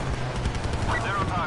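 Air support strafes targets in a video game with sustained, dense bursts of rapid gunfire rumbling steadily, with a voice speaking under the barrage.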